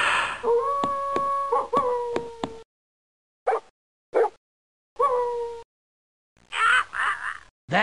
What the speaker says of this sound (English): That dog's gonna sing for the band now, too.